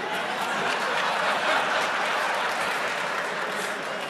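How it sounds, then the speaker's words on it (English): Audience applause fills a room after a golf-match remark at a Power FM chairman's interview, a dense, steady wash of clapping with a few chuckles mixed in, sustained for several seconds at moderate loudness. "I think we all applauded"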